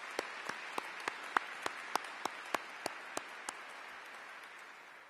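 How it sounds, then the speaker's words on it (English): At an Australia Day ceremony, a small audience gives sparse, widely spaced claps, about a dozen distinct sharp hits over a soft background of scattered clapping, fading out toward the end. "So please, ladies and gentlemen, a round of applause."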